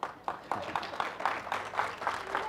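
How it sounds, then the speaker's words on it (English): Scattered audience members at a photography skills session clap in a light, regular patter of separate claps, faint and somewhat distant, with no voices over it. "So guys, now you can clap for me."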